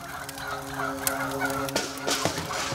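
Chickens call out in bursts of rapid, warbling clucks over a faint background hiss, with no talking.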